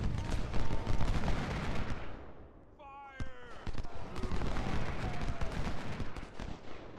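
Volleys of artillery and rifle fire boom and crackle across a Civil War battlefield in Ultimate General: Civil War at Gettysburg, loud rumbling bursts with a short lull midway before the firing resumes.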